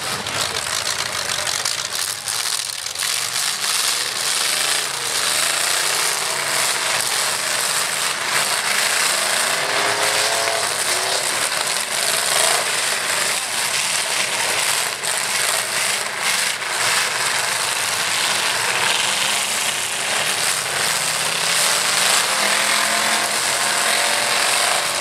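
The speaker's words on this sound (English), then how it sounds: "Watch them as they hit the throttle and go green." Derby trucks revving hard at a truck derby, a dense, continuous roar of engines with grinding and rattling, loud and unbroken throughout.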